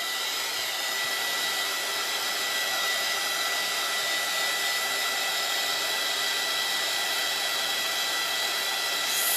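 Hair dryer blowing steadily and loudly on a freshly applied chalk paste transfer, a continuous whooshing hum that runs unbroken throughout with no voices.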